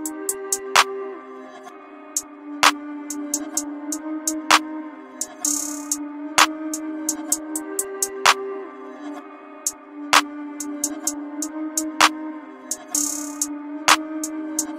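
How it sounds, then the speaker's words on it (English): A quick FL Studio beat built around 808 bass notes, with a steady low tone sustaining underneath regular sharp percussive hits and bright cymbal-like bursts. The loop repeats in an even rhythm, close and moderately loud, with no voices. "I made a really quick beat right here to lay down some 808 notes"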